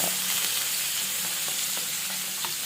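Fish pieces fry in hot oil for a fish curry, giving a loud, steady hiss and sizzle with a few soft clinks from a utensil, no talk.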